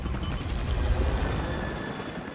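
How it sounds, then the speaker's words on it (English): Stealth military helicopters fly across the Pakistan border at night, their rotors a dense, steady roar with deep low thumping, loud and continuous without any talk. "The two stealth helicopters managed to cross the border to Pakistan undetected."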